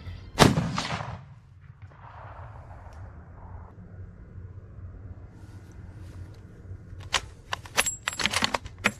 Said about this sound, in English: I'm gonna shoot a few rounds through it,